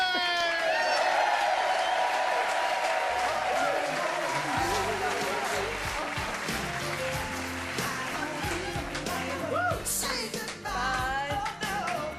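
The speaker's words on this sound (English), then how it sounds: "Give a nice round of applause" A 1990s TV studio audience applauds: dense crowd noise with scattered clapping and cheering, loud and continuous, with music and voices mixed in throughout.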